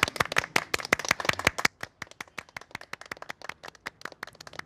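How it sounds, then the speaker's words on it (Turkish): A small group claps at a yearly meat-dinner gathering: a dense, lively burst of hand claps for about a second and a half, then thinning into looser, quieter scattered claps. "Alkış, alkışlıyoruz."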